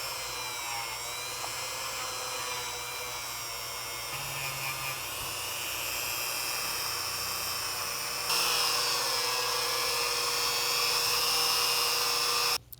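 A rotary tool polishes the blocker and lifter contact points of a Ruger MAX-9 pistol trigger, giving a steady high-pitched whine that holds without a break and rises slightly in pitch partway through, with no talking.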